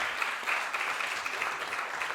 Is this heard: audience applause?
yes